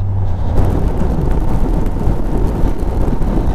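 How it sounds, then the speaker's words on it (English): Heavy rain on the road to Abakan, pouring as a dense, steady roar with rumbling wind and vehicle noise mixed in, loud and close throughout. "It's just 60 kilometers left and now it's heavy rain."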